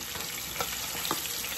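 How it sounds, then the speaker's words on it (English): A big fish fries in oil in a pot, giving a steady, moderately loud sizzle with a few brief crackles and no voices. "my fish is frying"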